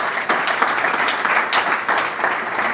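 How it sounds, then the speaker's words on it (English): Audience applause at a principal partners luncheon, a loud sustained wash of many hands clapping in a room, continuous and near. "they will be thrilled that you gave them such an applause"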